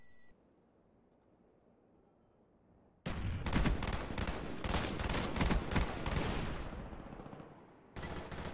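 Gunfire in a shooter video game on a firing-range map erupts in loud, rapid automatic bursts after a quiet opening, with dense overlapping shots and a brief lull before another burst.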